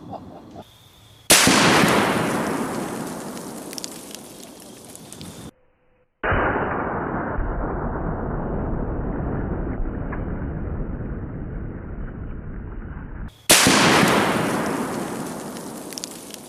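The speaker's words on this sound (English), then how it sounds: "Let's hit this 380-pound Atlas stone with a 50 BMG." Serbu RN50 .50 BMG rifle firing armor-piercing incendiary tracer rounds at a 380-pound Atlas stone; sharp loud blasts with long decaying roars, two heavy reports bracketing a sustained rumbling middle section, no talk.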